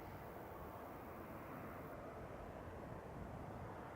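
easyJet airliner at Manchester Airport, a faint steady rumble of jet engines heard from a distance, continuous and even with no voices.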